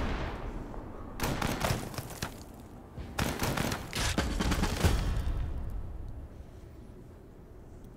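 In the Total Tank General wargame set at Moscow, a rapid fusillade of gunfire crackles in dense bursts over about three seconds, fairly loud and close, then fades to a low rumble, with no voices.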